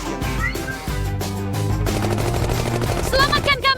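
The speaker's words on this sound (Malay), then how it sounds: "Mereka menembak kami." Rapid cartoon gunfire rattles over a bright, busy musical score in an animated food-challenge scene, with voices talking through it and a louder burst of shots near the end.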